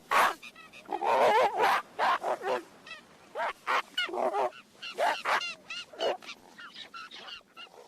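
A seal mother and her newborn pup trade rapid, honking barks up close, a busy overlapping run of calls with short gaps between them.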